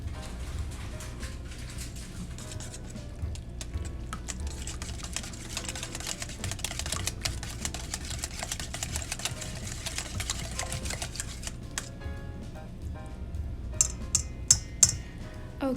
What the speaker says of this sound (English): you're just going to whisk this around until it's nice and combined